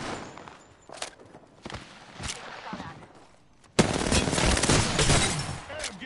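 Gunfire strikes the player's character in Apex Legends: scattered thuds and shots at first, then a sudden loud, continuous barrage of rapid automatic fire.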